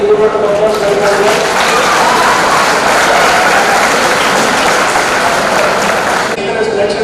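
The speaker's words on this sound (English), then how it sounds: "I request all of you to give a good round of applause for her" Audience applause for a presenter at a CA student conference's accounting technical session: steady, loud clapping from a crowd for about six seconds, then fading, with some voices mixed in.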